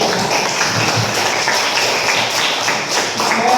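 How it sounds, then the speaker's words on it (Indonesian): Clapping by pupils in a classroom, a dense, steady patter of many hands throughout the short stretch. "Tepuk tangan untuk aku."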